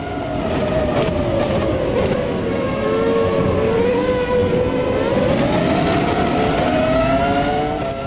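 V10 Formula 1 race car engine in the Automobilista 2 racing game, a steady high-pitched onboard drone holding and gently rising and falling in pitch as the car runs through corners, loud and continuous without talk.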